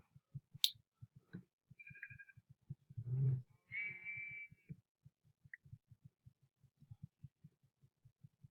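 Minecraft sheep bleating in an acacia forest, a couple of short nasal bleats rising over a steady ticking rhythm of footsteps as the player runs along.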